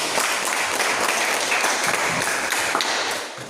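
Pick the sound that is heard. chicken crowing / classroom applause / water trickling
classroom applause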